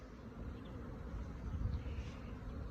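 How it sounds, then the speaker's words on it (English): Honey bees buzz around a Flow Hive on a 14-degree spring day, a steady close hum with no other sounds. "the bees are buzzing"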